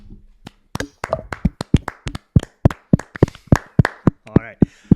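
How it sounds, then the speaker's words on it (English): Hands clap right against a microphone, a series of sharp, loud, close slaps in an uneven rhythm, around twenty hits over a few seconds, with a little talk near the start. "Please don't clap the mic anymore."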